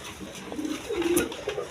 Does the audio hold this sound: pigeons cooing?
yes